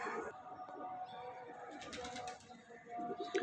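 Lakha pigeons coo softly in a loft among about 200 kept birds, low murmuring calls with faint chirps and a brief flutter of wings, heard at a moderate distance.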